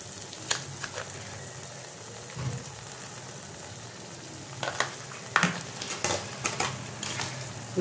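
Chicken masala frying and sizzling in a pan after butter is added, a steady close crackle with occasional sharper spits and stirring scrapes, no talking.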